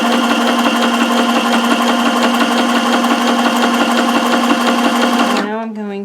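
A sewing machine runs continuously as it stitches a small zigzag up the side of a patchwork fabric tag, a loud, close, even mechanical whir that stops abruptly near the end.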